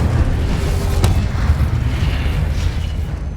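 A fire spell blast in Hogwarts Legacy, a deep rumbling boom with a sharp crack near the start, then a sustained low roaring burn that stays loud to the end.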